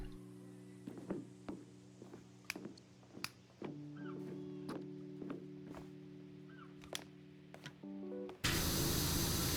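Virtual pressure washer with the green nozzle in PowerWash Simulator, a sharp, loud burst of steady hissing spray arriving at the end after a stretch of soft tonal hums and scattered clicks.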